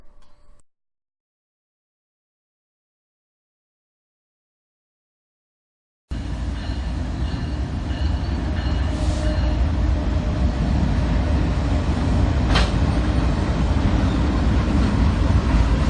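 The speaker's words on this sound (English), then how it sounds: "This is train UDK, Conrail's unit coal train, headed to Atlantic City Electric's generating station" After several seconds of silence, a loud, continuous rumble of a passing Conrail unit coal freight train rises and holds steady, with rail clatter and occasional squeals.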